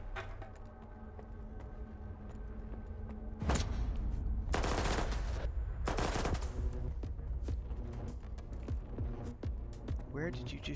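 Bursts of automatic gunfire in S.T.A.L.K.E.R. 2: Heart of Chornobyl, loud sustained volleys breaking out after a quieter stretch, followed by scattered single shots.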